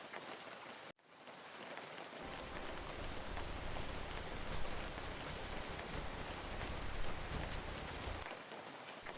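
Steady rain falling, a dense even hiss that cuts out briefly near the start and then resumes, with a low constant drone underneath and no voices.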